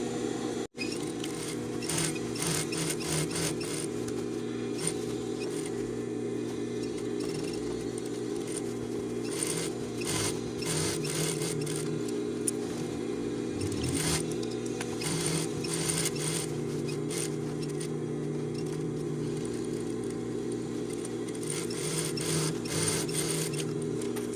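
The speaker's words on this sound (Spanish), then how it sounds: "Es importante pasar con cuidado a la altura de el tiro para que no se nos vaya a romper la aguja o nos quede saltada la puntada." A sewing machine stitches the crotch seam of a pair of jeans, a steady mechanical whir with rapid rhythmic clatter and short pauses, running continuously at moderate volume without speech.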